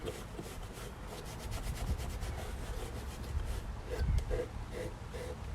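A rag rubs sealer onto painted furniture outdoors in a parking lot, giving a soft, steady swishing in rhythmic strokes at close range, faint, with light background noise.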